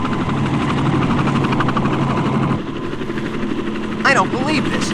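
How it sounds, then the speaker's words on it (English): A jet helicopter flies over a concert stage, its engine roar and rotor rumble steady beneath shouting voices, then thinning out as it moves away, with sharp cries rising near the end. "the helicopter flies off"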